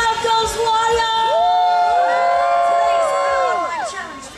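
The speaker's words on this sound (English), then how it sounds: "And the crowd goes wild." A crowd erupts in wild cheering, with long rising and falling whoops and shouts layered together at full volume, fading slightly toward the end.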